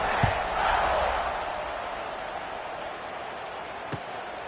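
A stadium crowd in the video game College Football 26: a broad, steady roar of many voices that swells early and then holds, with a couple of faint thumps.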